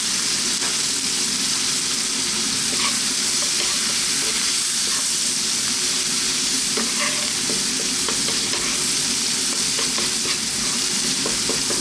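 Whole tilapia frying in a pan with chili powder and black pepper, a loud, continuous sizzle with scattered crackles and the scrape of stirring throughout.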